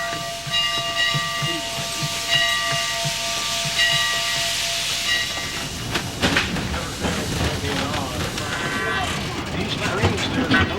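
A steam train on the Maine Narrow Gauge railway hisses loudly and steadily, with a sustained whistle tone early on and rattling, chuffing mechanical noise later, while voices murmur in the background.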